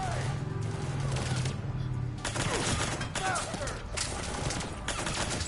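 Continuous gunfire in Mass Effect 3, dense overlapping shots and bursts crackling throughout a combat scene, with voices shouting beneath the firing.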